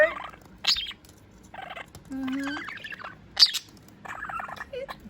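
Close chirps, squawks and warbling chatter come from a pet budgie in short bursts, with a low voice-like hum briefly underneath.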